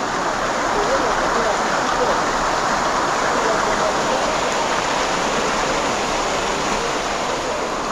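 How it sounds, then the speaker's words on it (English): A warm thermal waterfall in the Atacama Desert pours in a steady, dense rushing roar, loud and continuous throughout, with voices talking over the water. "This is the first time that I see a waterfall with warm water."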